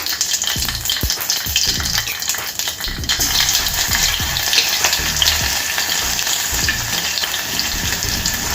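Crushed garlic frying in hot oil for a tomato pickle, a loud, continuous sizzle with stirring clinks, close up and with no talking.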